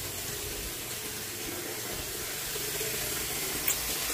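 Water runs steadily from a tap while a pet is being bathed, a faint continuous hiss with a small clink near the end and no talking.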